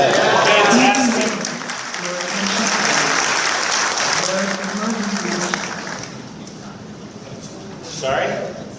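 An audience at a conference claps for a speaker, giving loud, sustained applause that gradually thins and fades, with a voice talking over it at intervals.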